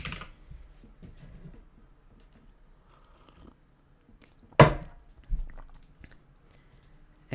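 Code is typed on a computer keyboard, with sparse, faint key clicks scattered through quiet and one sharper, louder tap partway through.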